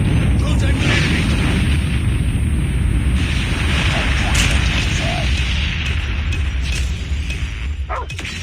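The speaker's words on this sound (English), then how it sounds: "Warning, friendly nuke has been launched." A nuke detonating in Call of Duty Mobile gives a sustained, loud, rumbling roar that fills the whole clip and eases slightly toward the end, with scattered crackles and faint game voice lines over it.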